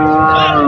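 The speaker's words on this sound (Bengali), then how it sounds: "বিশাল বড় কালো গরু" A single loud, close moo from a large black cow at a cattle market, a deep drawn-out bellow that rises slightly at the end.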